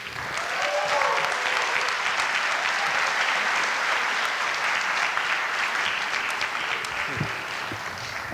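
Warm, sustained applause from a commencement audience greets a speaker at a Specs Howard graduation ceremony, a dense, steady wash of many hands clapping that holds evenly throughout without pause.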